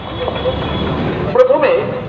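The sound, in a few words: Kolkata tram running during a ride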